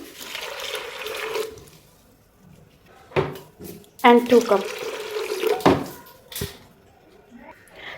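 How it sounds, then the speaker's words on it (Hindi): Running water splashes from a tap into a pressure cooker pot of dal in short bursts, with clatter of cookware and someone speaking briefly over it. "अब इसमें 2 कप जितना पानी डालेंगे"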